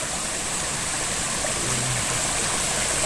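Steady rushing hiss of a flowing creek, close and constant, with no voices over the running water.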